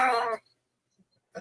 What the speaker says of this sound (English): Yeah, that's my cat, JJ.